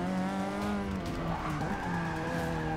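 Race car tires skid and squeal steadily while drifting under braking in the Forza 6 racing game, a continuous loud screech layered over the engine's droning tone with no pauses.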